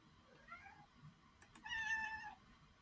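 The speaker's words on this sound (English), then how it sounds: "Please ignore the animal noises from behind. I have a cat that really wants to be my friend right now." A house cat meows from behind at a distance, faint and soft, with a couple of short calls and then a longer drawn-out meow, plus a brief click in a quiet room.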